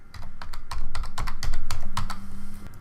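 Rapid, uneven keystrokes on a computer keyboard while editing existing TIN surface break lines in CAD software. The clatter is close and steady, with irregular bursts of clicks and no talk.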